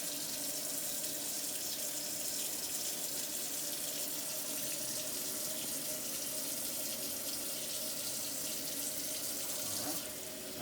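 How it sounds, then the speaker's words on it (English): Tap water runs steadily into a sink as hands are rinsed underneath, a constant bright hiss and splash lasting about ten seconds before cutting off near the end. "Now I'm going to thoroughly rinse my hands, making sure not to touch the sides of the sink or anything else."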